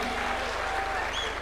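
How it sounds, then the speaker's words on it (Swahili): A crowd at a political rally applauds new party members who have crossed over from ANC to UDA, a short burst of dense, steady clapping that fills the space close by. "Tuwapigie makofi."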